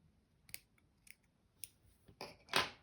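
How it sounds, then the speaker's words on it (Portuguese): Scissors snip crochet yarn in a few quiet, close clicks, spaced out and then two sharper cuts at the end, with no talking. "aqui eu vou cortar o fio"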